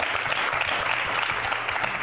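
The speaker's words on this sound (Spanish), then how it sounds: "Oh, un aplauso." Audience applause rewards a correct answer on a quiz show, a steady dense clapping that fills the short moment on its own without any talk.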